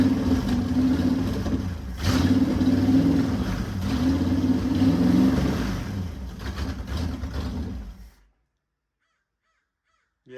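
A car engine started on the ground runs loudly with uneven revving surges for about eight seconds, then stops abruptly into silence.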